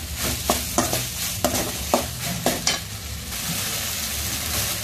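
Masala for makhani paneer frying in a pan, a loud, continuous sizzle close up, punctuated by a regular series of sharp spoon scrapes and knocks for the first few seconds before the frying carries on alone.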